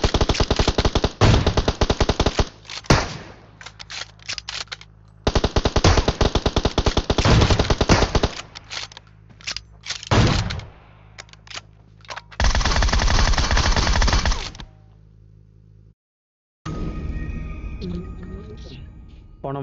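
Automatic gunfire from PUBG Mobile rips out in loud, rapid bursts separated by short pauses, with a few quieter gaps, ending in softer game sounds.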